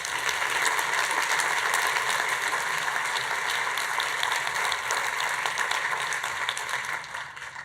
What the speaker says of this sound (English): Can you please give a round of applause for our team?